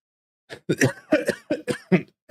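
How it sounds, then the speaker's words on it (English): A man on a live football watch-along stream coughs in a rapid series of about seven harsh, close coughs after a brief silence, loud and dry with short gaps between them. "I need to cough."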